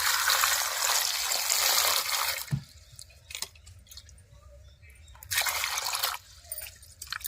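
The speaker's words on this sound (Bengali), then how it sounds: "প্রথমে আমি টমেটোগুলো ধুয়ে নেব জল দিয়ে দেবো" Water splashes and pours over tomatoes being washed in the kitchen, a loud rush at the start and again midway, separated by quieter drips and handling noises.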